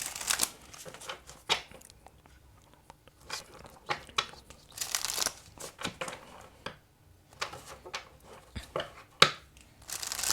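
Oracle cards are shuffled close by in irregular bursts of papery riffling, flicking and rustling, some louder snaps standing out over a quiet background.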